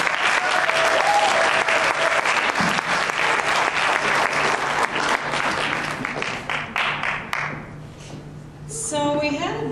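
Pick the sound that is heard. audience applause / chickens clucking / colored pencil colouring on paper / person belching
audience applause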